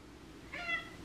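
A cat gives a single short, soft meow, close but quiet, while cats wait to be fed soft food in a home.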